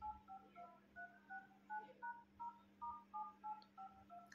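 Dial pad keypad tones from a Samsung Galaxy M13 5G phone, a steady run of about seventeen short, evenly spaced beeps as numbers are entered, fairly quiet over a low constant hum, no talking.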